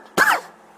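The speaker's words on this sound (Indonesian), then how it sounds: "Minta maaf, malam ini agak batuk" A man gives one sharp, close cough during an evening Ramadan talk. Right at the end the start of a second cough cuts in.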